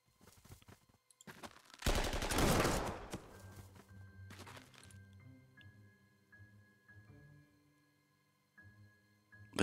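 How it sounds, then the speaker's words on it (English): Game artillery fire in Panzer Corps 2 during a World War II battle at the gates of Moscow: a burst of loud booming impacts, followed by quieter clicks and tonal interface blips. "That's artillery."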